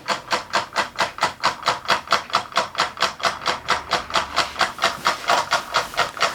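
Scratch-built small solenoid beam engine running with a hardboard or Paxolin flywheel and beam, giving a fast, even series of close, rhythmic clacking pulses with no talk.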